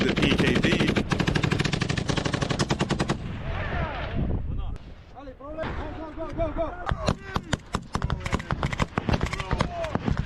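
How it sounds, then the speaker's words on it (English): PK machine gun firing on a frontline, a long rapid burst of loud close shots, then broken bursts and single cracks with ringing echoes and a clattering tail, with voices talking over parts of it. "We can now see them shooting the PKD."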